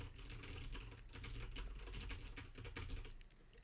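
Rapid clattering of a computer keyboard being typed on, with faint mouse clicks mixed in, close and steady for a few seconds with no voices.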